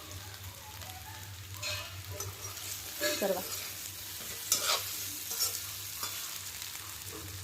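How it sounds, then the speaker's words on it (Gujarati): Muthiya dumplings are stirred as they fry in a pan, with steady sizzling, scraping and clinking of the spoon over a low kitchen hum, and a brief spoken word. "હલાવતા રહેવું, જેથી કરીને નીચે બેસી ના જાય અને બળી ના જાય."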